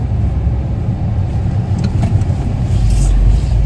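A car being driven, heard from inside as a steady, loud low engine and road rumble that swells slightly toward the end, with no voices over it.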